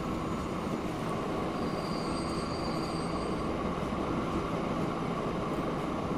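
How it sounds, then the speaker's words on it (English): An old-style electric train running in the railway simulation game Transport Fever, a steady loud rumble of wheels on track with faint high squeals, continuous and close throughout. "that is a pretty... like full-on old-style electric train"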